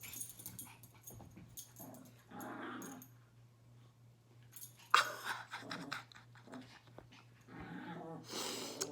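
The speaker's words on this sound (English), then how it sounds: "These dogs are going wild today." Dogs growl, snort and pant indoors, breathing in close bursts with a few sharper vocal sounds, and no talking.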